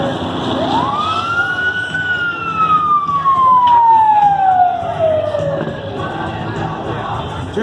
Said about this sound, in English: Now here comes the task force, a truck company and 2 engines.